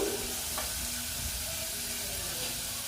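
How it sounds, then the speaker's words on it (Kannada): Onions and chopped vegetables frying in oil for pasta, a loud continuous hissing sizzle close by, steady throughout with faint stirring underneath. "ಈರುಳ್ಳಿ ಎಲ್ಲ ಫ್ರೈ ಆದಮೇಲೆ ನಾನು ಕಟ್ ಮಾಡಿ ಇಟ್ಕೊಂಡಿರೋ ಅಂತಹ 1 ಕಪ್ಪಷ್ಟು ತರಕಾರಿನ ಸೇರಿಸ್ಕೊತಾ ಇದ್ದೀನಿ"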